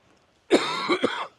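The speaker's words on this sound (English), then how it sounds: "I've had a terrible cough" A single harsh cough, close and loud, breaking into a couple of rough bursts before stopping.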